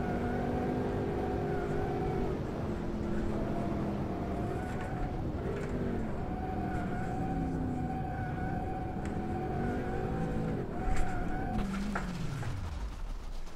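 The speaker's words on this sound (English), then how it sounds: "It's time for the Corvette C6 ZR1 road car to set the second benchmark on our Top Gear leaderboard." Corvette C6 ZR1 road car engine in the rFactor 2 racing game, revving up and down through gear changes with rising and falling tones, loud and continuous, then winding down to a stop at the end.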